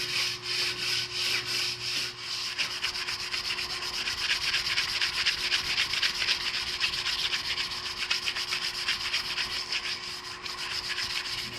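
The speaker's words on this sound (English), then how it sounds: "I took handfuls of shavings and used those to brush off the sanding dust and to burnish the surface." Handfuls of wood shavings rubbed steadily over a sanded wooden paddle, a close, continuous dry brushing hiss with a fine rhythmic texture, alone without speech.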